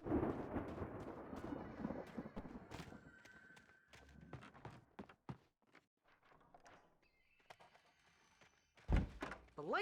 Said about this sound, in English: I'm hearing doors opening.